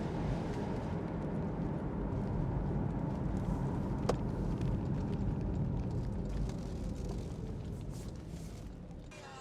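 A 2013 Porsche Boxster S 981 with the 3.4-litre engine and PDK gearbox drives at low speed, giving a steady, muffled engine and road rumble that fades slightly toward the end, with a brief click partway through.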